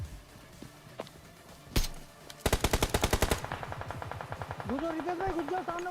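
Gunfire in a first-person shooter video game, a couple of single shots and then a rapid automatic burst of sharp cracks, with steady repeated shots continuing under someone speaking.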